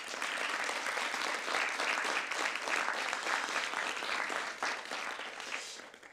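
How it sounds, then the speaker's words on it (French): An audience at the Maison de la Poésie applauds the venue's technicians, sustained dense clapping that stays loud and even before tapering off near the end. "Et je vous demande même de les applaudir, les techniciens de la Maison de la Poésie"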